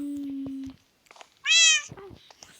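A cat meows once in a video game, a short bright tonal mew amid quiet game beeps and tones, close and clear.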